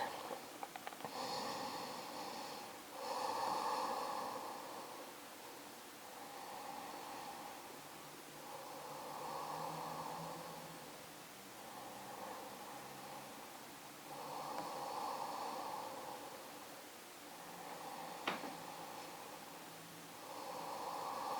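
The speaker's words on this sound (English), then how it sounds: "Let's take another 3 to 5 deep breaths." Slow, deep breathing during a yoga class, faint and close, with long inhales and exhales repeating every few seconds against a quiet room hiss.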